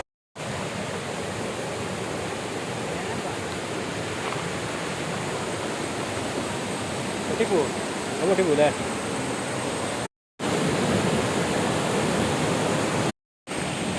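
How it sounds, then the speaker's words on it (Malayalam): Amarad waterfall, the biggest in Kozhikode, gives a steady, close roar of water rushing down, with a voice briefly heard and the sound cutting out twice. "അമരാട് ഏറ്റവും വലിയ വെള്ളച്ചാട്ടം"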